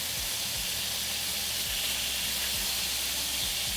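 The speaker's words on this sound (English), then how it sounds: "This is our last side to sear." Pork belly searing in a hot pan, a steady loud sizzle and hiss with faint crackles underneath, no voices.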